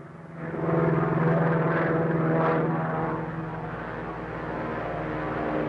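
A propeller airplane drones steadily overhead while attacking a Zeppelin, its engine buzz swelling louder and then holding at a slightly lower, continuous level.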